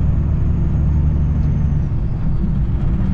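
Heavy truck driving out of town on mountain roads, a steady loud low engine and road rumble running continuously without a break, close and unvaried throughout.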